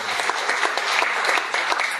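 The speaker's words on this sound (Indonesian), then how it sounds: "Yang setuju tepuk tangan." Church congregation applauding steadily throughout, a dense wash of many hands clapping with no voices on top.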